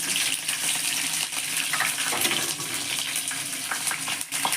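Green chillies dropped into hot oil with spluttering mustard seeds for a Kerala fish curry, producing a loud, steady, close sizzle and crackle that continues without pause.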